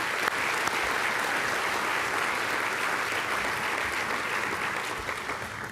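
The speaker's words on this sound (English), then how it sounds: "Let's give him another big round of applause" Loud, sustained applause from a large crowd at a luncheon, steady clapping that fills the whole stretch and eases only slightly toward the end.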